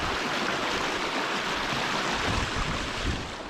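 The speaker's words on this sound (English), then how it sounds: "It's crazy the amount of water in those wee burns just because of the mad conditions at this time of year." A small Scottish burn, swollen with wet-season runoff, rushes in a loud, steady, close-up torrent of broadband water noise with no voices.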